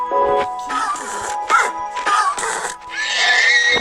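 A video-game horse neighs loudly in a few drawn-out, wavering bursts, close and clear, with brief gaps between calls.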